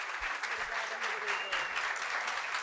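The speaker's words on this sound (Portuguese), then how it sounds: "Uma salva de palmas para a nutricionista Paula" An audience at a running-event talk applauds a nutritionist: a thick, continuous wash of clapping with faint voices mixed in, steady for under three seconds.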